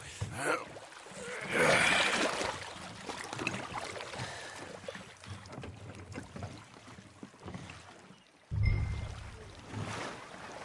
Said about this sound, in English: Come on, let's push off. I'll show you where we're rowing to.